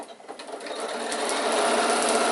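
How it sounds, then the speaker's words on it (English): A sewing machine stitches an insulated picnic bag with a continuous close, steady whirring hum that builds slightly in loudness and runs without breaks. "and then we're going to sew about 3 inches, back tack, stop, leaving a gap"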